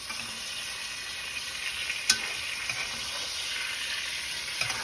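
Garlic and butter sizzle and foam steadily in a hot pan beside a ribeye steak, a dense, continuous frying hiss with occasional stirring clicks and small pops, close and fairly loud, no voices.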